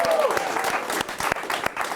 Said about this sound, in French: Hey, on l'applaudit un peu.